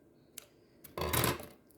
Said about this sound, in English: preferably with a pair of scissors that actually cuts.